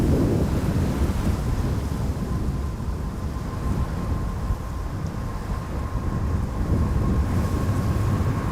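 Strong wind buffets the microphone beside the Polderbaan runway at Schiphol, a rough, gusty rumble surging and easing over several seconds with no voices.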